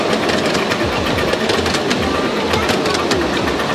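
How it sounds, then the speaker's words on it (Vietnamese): A small coal-fired steam train at a Christmas market in Bad Homburg, Germany, runs with a loud steady chugging and clattering rhythm, close by, with a crowd murmuring behind it. "Cho than vào và chạy bằng hơi nước á."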